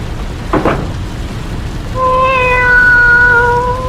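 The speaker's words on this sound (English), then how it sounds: "Be quiet, cat." A cat lets out a short muffled sound, then a long, clear meow that holds steady for about two seconds, heard over a steady rainy background hiss in an old radio drama.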